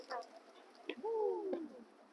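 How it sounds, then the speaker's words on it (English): Pigeons coo in a city centre in the Merchant City area of Glasgow, with a few soft, close calls and one drawn-out coo over faint street background. "Oh, the pigeons, man."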